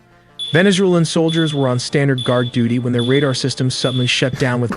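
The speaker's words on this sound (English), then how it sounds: "why is there a fire alarm sound in this video?" A fire alarm sound effect beeps steadily at a high pitch throughout, running loud beneath someone narrating continuously in the foreground.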